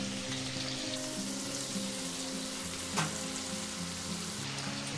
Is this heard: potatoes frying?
yes